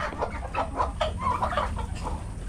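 Clucking from darag native chickens, small Filipino free-range fowl, with a series of short close clucks and cackles over a low rumbling background.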